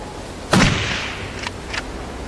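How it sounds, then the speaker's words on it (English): A single sharp gunshot fired at a wild boar during a hunt, a loud close crack followed by a short decaying echo and two faint distant reports. "I quickly close in and fire, taking the boar down instantly."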